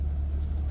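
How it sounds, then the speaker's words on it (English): An Infiniti Q50 fitted with a Pedal Commander gives a low, steady engine rumble with a light throttle tap while pulling out of a parking spot, close and even throughout. "I just gave it a tiny bit of tap of gas just to get out the parking spot."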